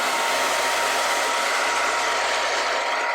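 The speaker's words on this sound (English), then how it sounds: "I'm gonna take my blow dryer and blow it dry." A blow dryer runs steadily on a frontal wig, a loud continuous airy roar with a low motor hum that shifts setting briefly partway through, with no talking.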